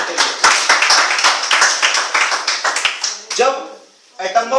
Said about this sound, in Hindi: एक जोरदार ताली होनी चाहिए भाई साहब के लिए